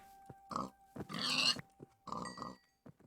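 Pigs in the video game Minecraft give several short, separate grunts and snorts, close and clear, with brief gaps between them.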